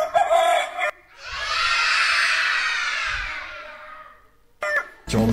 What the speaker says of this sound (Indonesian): itu suara ayam